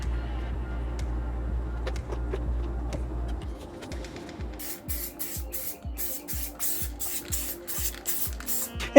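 Rapid bursts of aerosol spray as black paint goes onto a homemade remote-control lawn mower, about a dozen short hissing puffs in quick rhythm during the second half, preceded by duller handling noises.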